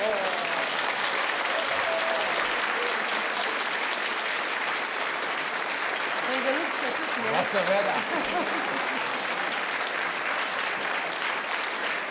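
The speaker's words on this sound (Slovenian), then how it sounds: "Mislim, da nocojšnja napovedovalka Ingrid zasluži en gromek aplavz." A concert audience at an evening of patriotic songs breaks into sustained applause, dense, even clapping lasting throughout with a few faint voices in the crowd.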